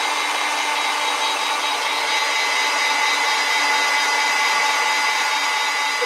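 A hair dryer drying paint on a fantasy mushroom landscape painting blows a steady, loud, close whoosh that holds without a break from start to finish.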